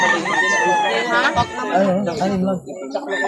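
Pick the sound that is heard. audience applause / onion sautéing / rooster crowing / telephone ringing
rooster crowing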